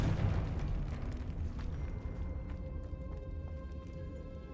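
A Confringo fire-spell blast in Hogwarts Legacy, one heavy rumbling explosion that opens loud and then decays in a long, dense roar with scattered crackles.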